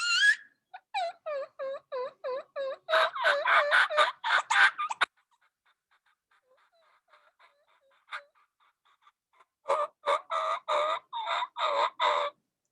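A wild turkey hen calls in raspy, evenly spaced yelps, one clear run after another. After a quiet pause with a few soft notes, a second fast, loud series follows.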